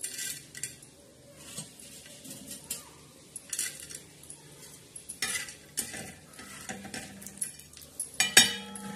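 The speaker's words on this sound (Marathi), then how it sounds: "आता मैत्रिणींनो याच्यात थोडीशी डाळ भाजणार आहोत" Dal roasting in a pan with masala while a spoon stirs and knocks against the metal; quiet, close clinks and scrapes in uneven bursts, with a bright clang near the end and no talking.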